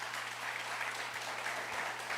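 An audience at a São Paulo municipal transparency ceremony claps as a speaker is invited to the stage, a brief, steady, dense patter of applause with no speech.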